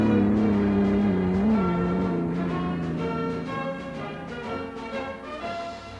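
The Notre Dame unlimited hydroplane racing boat accelerates out of a turn at the 1965 Gold Cup in Seattle, a loud, sustained engine whine with a pitch that bends and climbs, steady and close with no voices.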